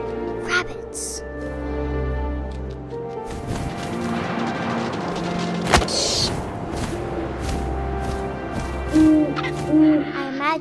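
Owl hoots from What Remains of Edith Finch: soft, low hooting calls set against wind and game ambience, with a narrator speaking over much of the scene.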